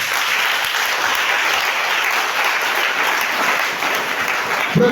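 Congregation applauding in church, a dense, continuous clapping crowd that keeps an even level for several seconds before a brief louder burst at the end.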